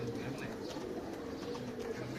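Low, soft cooing of a racing pigeon nearby over a steady background hum.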